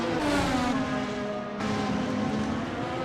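A Porsche race car in an F1-style racing video game revs steadily near and loud, its engine tone holding a strong sustained pitch with a brief dip midway, no voices over it.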